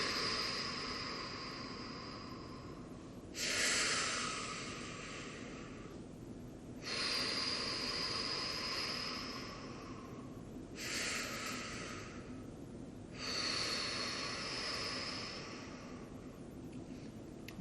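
Slow, deep meditative breaths come close and clear in long swells, four or five drawn-out inhales and exhales separated by quiet pauses.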